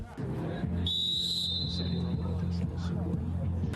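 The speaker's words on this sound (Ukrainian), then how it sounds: "Свисток тренера і почали." A coach's single shrill whistle blast starts a veterans' football match, lasting nearly a second over steady crowd babble and low background noise.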